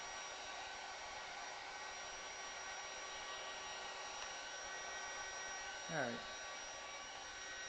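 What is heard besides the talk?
heat gun blowing hot air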